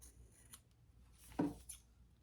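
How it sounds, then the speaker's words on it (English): Scissors trim the edge of fabric pieces for a shoulder bag. The room is otherwise quiet, with faint light rustling before one clear, close snip-like cut near the middle and a softer follow-up. "So now I'm going to trim that up."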